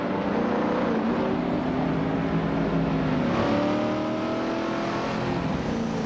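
Race car engines roar together at the start of a video game race on the Bernese Alps Festival track, a loud, steady drone of revving motors with rising and falling pitch, no voices.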